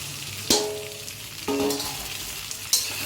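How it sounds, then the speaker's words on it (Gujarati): Muthiya dumplings drop into hot tempering oil and sizzle steadily, with a few louder splashes and scrapes as they are added and stirred, close up and without talk. "હવે એમાં મૂઠિયા નાખો. મૂઠિયા વઘારો."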